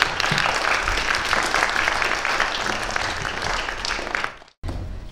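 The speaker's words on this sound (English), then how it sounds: "Can you please give her a round of applause?" A film festival Q&A audience applauds a guest director, dense and loud clapping from a full room that holds steady, then drops out abruptly near the end before a brief resumption.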